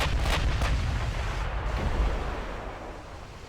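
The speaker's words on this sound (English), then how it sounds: "so you can get all 8 guns firing" Battleship main guns firing in the naval video game Ultimate Admiral: Dreadnoughts, a close, heavy booming salvo of rapid blasts at the start that rolls into a long, loud rumbling decay.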